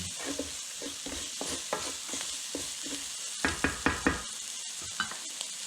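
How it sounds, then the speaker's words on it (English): Spices sizzle and crackle in hot oil in a pan while being stirred, with a steady frying hiss and irregular scraping taps of the spoon, several louder clusters of knocks near the end, close and without talk. "give this a stir for about 20-30 seconds. We want to bloom up these spices."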